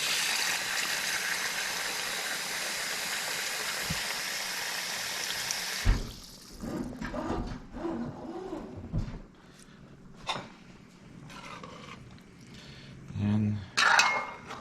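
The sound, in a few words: water poured into pot of catfish curry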